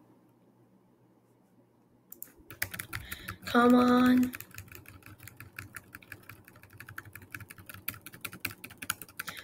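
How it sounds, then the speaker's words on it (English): Fast computer keyboard typing during an online business simulator game starts after a quiet opening and continues as a steady stream of close, dense clicks, interrupted briefly by a loud vocal exclamation. "let's just keep typing"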